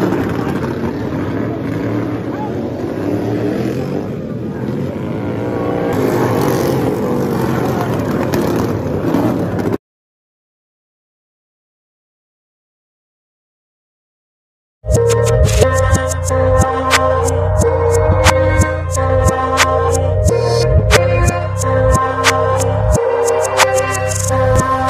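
A mud racing vehicle's engine roars loudly with revving pulses after a noisy opening stretch and a few seconds of silence.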